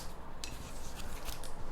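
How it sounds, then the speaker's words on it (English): Scissors snip through a houseplant stem right at a node during propagation, giving a couple of brief, close, crisp cuts over soft room background. "I'm going to cut it right at the next node here"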